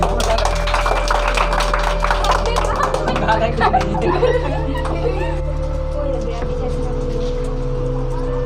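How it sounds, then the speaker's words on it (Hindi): Students clap their hands in a classroom during a Teachers Day celebration, with scattered applause mixed with chuckles, snickers and loud chatter throughout. "हाँ ताली बजा दो।"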